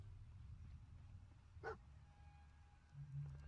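A dog in Fallout 4 gives one short, sharp bark midway, faint against a low, steady game hum.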